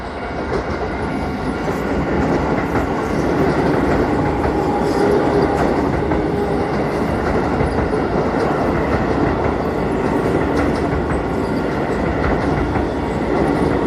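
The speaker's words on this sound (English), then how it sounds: "But here we go, guys, choo-choo time." A train rolls past on a railway line in Chofu, Tokyo, a loud, close, continuous rumble with rhythmic clatter of wheels over rail joints throughout.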